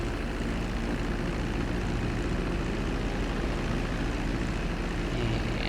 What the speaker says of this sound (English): Right, we're cleared to land.